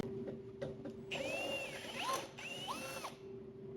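A power drill bores holes in a garage setting, its motor whining steadily with two drawn-out bursts whose pitch sweeps and bends as the bit bites, over a constant low hum.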